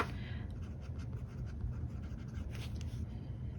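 A fountain pen scratches across paper in short, quiet strokes, close and soft over a low background hum.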